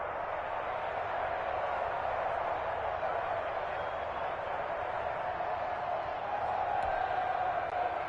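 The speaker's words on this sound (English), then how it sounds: "the crowd getting into it as we come up on a big 3rd down" A football stadium crowd at a Bills game builds into a sustained, even roar of cheering that swells slightly toward the end, heard from a distance.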